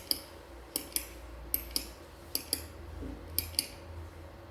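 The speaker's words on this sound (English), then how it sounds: "It's clicking a pen." A pen being clicked, sharp paired clicks repeating in a loose rhythm, close and clear against a quiet background with no talking.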